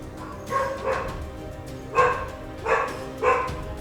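A dog barks indoors, five or so separate woofs in quick bursts, fairly close, with short pauses between them and a quiet room otherwise.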